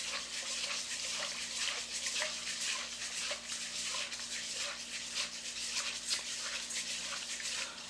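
Rice is washed by hand in the inner pot of a Zojirushi NP-HCC10 rice cooker, producing soft rhythmic swishing and grainy scrubbing in water, repeated in even strokes, faint and close.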